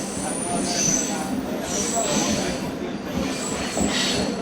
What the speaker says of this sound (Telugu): వినుకొండ నుంచి మన ట్రైన్ బయలుదేరిపోయింది.